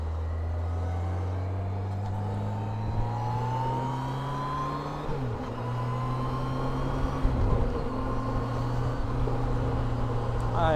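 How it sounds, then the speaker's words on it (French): Yamaha FJR 1300 motorcycle cruising on the road, its steady engine drone rising and dropping through several gear shifts, with a low, continuous tone close to the microphone and no talking. "j'entends les rapports tomber en roulant."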